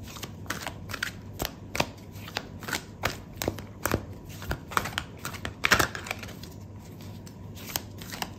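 Tarot cards shuffled and drawn from a deck, a steady run of close, crisp riffling flicks and snaps, some louder, with no talking.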